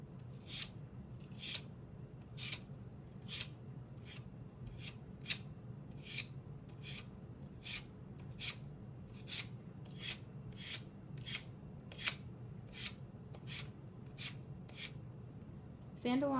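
A paper edge is sanded against a wooden block in single downward strokes, giving about twenty short, crisp rasping swipes at a steady pace over a quiet low hum.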